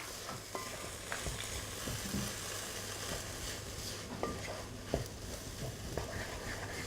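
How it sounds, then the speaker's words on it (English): Spices and ingredients for Spanish chicken sizzling in a pan as they are stirred around, a soft continuous frying hiss with scattered utensil taps and scrapes, fairly quiet, over a low background hum. "So throw those in, give them a good stir around."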